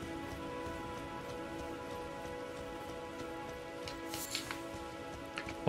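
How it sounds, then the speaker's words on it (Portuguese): Steady rain falls in a dark outdoor area of the Elden Ring video game, a continuous soft patter with a low tonal drone beneath and a few faint sharper sounds near the end. "Pô, tá escuro também, a chuva não para."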